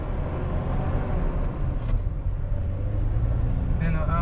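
A manual car's engine revs with climbing RPM, a low rumbling drone with a rising tone toward the end, heard from inside the car while someone talks over it.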